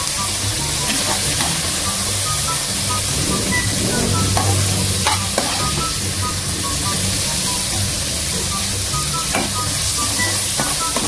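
Pancit bihon and pancit canton noodles with vegetables being stirred in a hot kawali pan give a continuous close sizzle, broken by repeated scraping stirs throughout.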